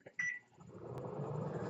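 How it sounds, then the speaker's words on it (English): An 1100 watt microwave oven: a short beep, a brief click, then the low, steady hum of the oven starting up and running. "And then into the microwave it goes."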